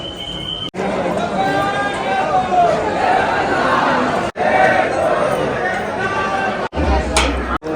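A dense crowd of pilgrims at a temple fills the air with loud overlapping chatter and calls, close and continuous, broken by a few brief cuts.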